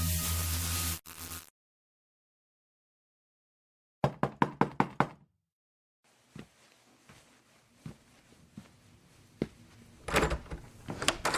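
Several sharp knocks on a door, a quick run of loud raps followed after a pause by scattered softer taps and bumps, close and distinct with no talk.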